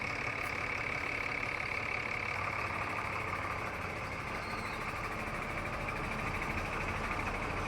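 A Kadur to Chikkamagaluru non-stop bus idles at Kadur bus stand, its engine a steady, even rumble that holds throughout under a wash of station background noise, with no talk.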